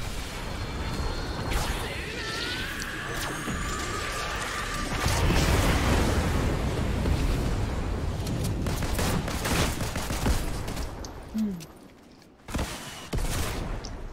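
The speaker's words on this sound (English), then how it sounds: "He got you? Yep, that rocket launcher." Rocket launcher blasts in a video game, a loud burst of explosive impacts and rapid gunfire that builds to a sustained barrage, then drops out before a final sharp hit.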